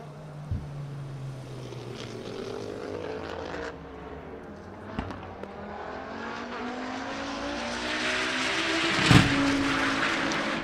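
A race car at a Global Time Attack event, driving through the infield of the track: a steady engine drone with rising and falling pitch, brief shifts and pops, swelling louder near the end as the car passes closer.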